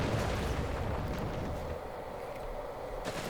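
Rumbling mortar strike explosions in Company of Heroes 3, a World War II strategy game, merging into a continuous loud roar of battle noise with dull booms and no clear individual blasts.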